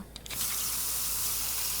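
Water flows and splashes steadily in the puzzle adventure game Secret Files Tunguska, a loud broadband rushing that starts abruptly after a few brief clicks and continues evenly to the end.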